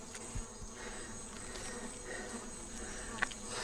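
Wasps buzz steadily at low volume alongside a bee-like hum, a continuous insect drone with one brief sharper click near the end.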